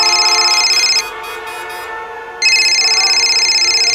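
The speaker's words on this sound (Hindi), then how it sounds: "लो, बीवी का फोन है।" A telephone rings loudly in an indoor setting, a bright electronic tone that cuts off for about a second and then resumes, with no talk over it.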